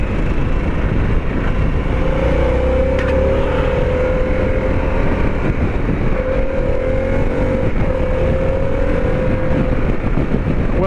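A 2021 Harley-Davidson Pan America motorcycle engine running in sport mode, a continuous loud drone with slow rises in pitch as revs build, steady throughout with no talking.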